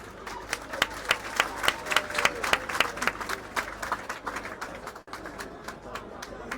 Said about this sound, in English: Let's clap for all the candidates for Kawempe North